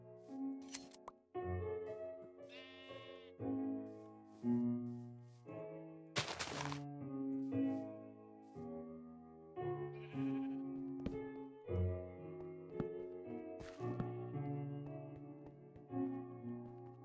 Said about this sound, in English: some of these sheep are stingy with their wool today.